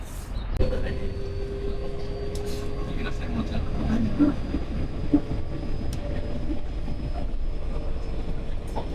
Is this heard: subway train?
yes